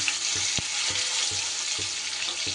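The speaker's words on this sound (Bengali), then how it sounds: "এই আলুগুলোকে ভালো করে ভেজে নেব।" Large chunks of potato fry in hot oil with a steady, dense sizzle, broken by several soft stirring knocks at a fairly regular pace, close up and with no talking.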